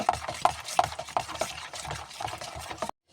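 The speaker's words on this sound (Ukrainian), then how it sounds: "Беремо тепер, розмішали з яйцем так." A spoon beating 15% sour cream with egg in a bowl for dumpling dough, giving a close, regular run of light clinks and scrapes that stops abruptly.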